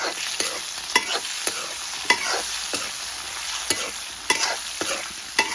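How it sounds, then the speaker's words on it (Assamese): Steady sizzling of turmeric-coated potatoes frying in hot oil, with repeated sharp scrapes and clinks of a spatula stirring through the pan every second or so. "এতিয়া প্ৰথমতে আলুখিনি ভাজি ল'ম"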